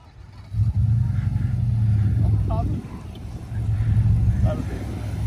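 A supercharged Nissan Y62 climbs a sand dune at the beach, its engine droning loud and low for several seconds, easing off briefly and then building again, while people talk over it.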